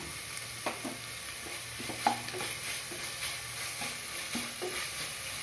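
Tomatoes and curry leaves sautéing for a mutton gravy, a faint continuous sizzle with scattered light taps and scrapes of a spoon stirring in the pan.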